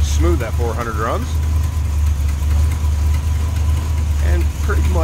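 A stock 400 V8 in a 1976 Dodge Power Wagon 200 truck idles with a deep, steady rumble throughout, smooth and continuous, with a voice talking briefly over it near the start and end.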